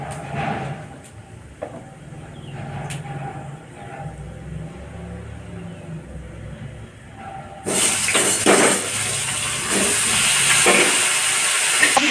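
Vegetables for shukto go into hot oil with a bay leaf and a dried red chilli in a pan. After a quiet stretch with a few soft clinks, a loud, steady hissing sizzle bursts in and continues to the end.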